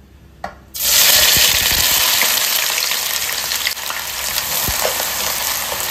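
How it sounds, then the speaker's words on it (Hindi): Thinly sliced large onions drop into smoking-hot mustard oil and break into a loud, steady sizzle that fills the whole stretch after a brief quiet moment, close and with no voices. "उसमें मैं डाल दूंगी ये पतला पतला स्लाइस करके कटा हुआ बड़े बड़े साइज के 3 ऑनियन को।"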